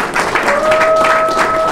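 An audience applauds a president at a Congolese gathering in Ottawa, a brief burst of dense, close clapping with a sustained tone running through it and voices underneath.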